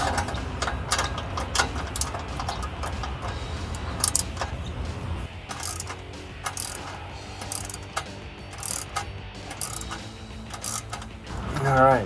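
A socket ratchet tightens an exhaust clamp nut on a 2015-2022 Dodge Challenger V8 with a Pypes axle-back exhaust. Quick metallic clicking runs in bursts throughout, close up, with a steady mechanical background.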